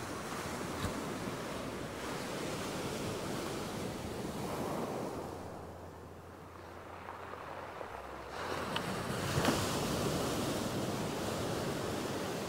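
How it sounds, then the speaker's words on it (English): Continuous roar of surf washing over a rocky shore in Shetland, rattling the rocks with a gritty hiss, briefly easing in the middle then surging back, fairly distant, wind noise throughout. "Surf rattling the rocks."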